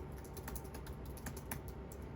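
Steady clatter of keys on a computer keyboard, quick irregular taps running continuously at moderate volume with no voices.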